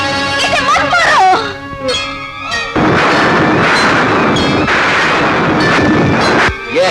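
Gunfire in a Hindi film revenge scene, loud booming shots ringing out one after another, with dramatic music and voice sounds mixed in at the start and blasts dominating the rest.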